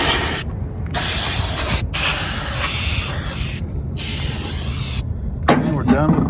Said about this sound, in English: I don't like these cans, but I don't have a compressor here to put 120 psi into this thing